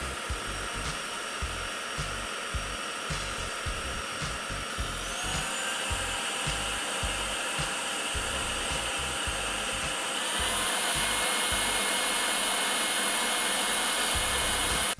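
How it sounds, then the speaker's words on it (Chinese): A Youwang Dajü household vacuum cleaner runs alone with a steady, loud whine, stepping up in level partway through and again near the end as the power setting rises. "吸尘器的噪音的话我们还是可以接受的"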